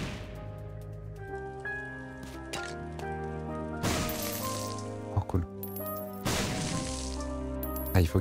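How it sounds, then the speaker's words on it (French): Bombs go off in The Binding of Isaac: Repentance, with a couple of loud booming blasts and smaller crunchy hits over steady game music. "La bombe."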